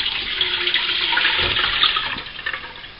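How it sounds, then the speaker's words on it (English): Lemon cooking water drains from a pan into a jam pan, a steady broad splashing pour running continuously and fairly loud for the whole stretch, with no voices. "I'm going to drain off the water into the jam pan,"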